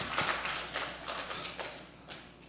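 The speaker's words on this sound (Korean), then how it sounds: "옆에 분들을 위해서 우리 박수 한 번만 쳐줘요" A church congregation claps together in a Sunday afternoon service: a steady run of quick, bright hand claps filling the room at moderate loudness, thinning slightly toward the end, with no voices over it.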